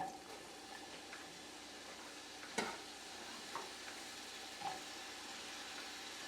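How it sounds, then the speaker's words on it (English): Diced onion sizzles in olive oil in a saucepan, a faint, even hiss with a few soft clinks and stirring knocks, heard close and without any talking. "right away I'm going to go in with the diced onion"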